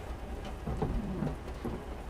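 Heavy rain drums steadily on an American Truck Simulator truck with modded weather sounds. Soft, regular swishes from the windshield wipers run through the dense, even hiss.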